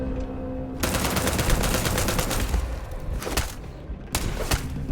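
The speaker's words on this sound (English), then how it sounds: "Heard the gunshot." Rapid gunfire crackles in the Starfield video game, dense automatic bursts near and loud, with a brief pause before a few final shots.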